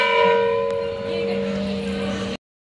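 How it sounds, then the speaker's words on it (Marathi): A metal temple bell at the Wagheshwar Shiva temple in Wagholi rings once, loud and close, its bright tone sustaining and slowly decaying before cutting off abruptly. "घंटा आहे."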